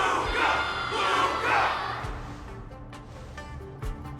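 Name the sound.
crowd cheering for Luka, from Honkai Star Rail video game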